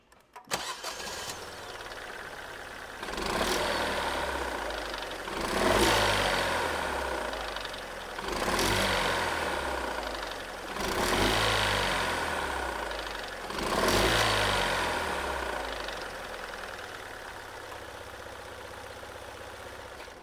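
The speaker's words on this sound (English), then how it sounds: "let's just hear how the engine sounds on the engine bay upon startup" A 2018 Fiat Panda's turbocharged two-cylinder engine cranks and starts, then runs with a rhythmic rise and fall, surging roughly every few seconds before settling into a steady idle.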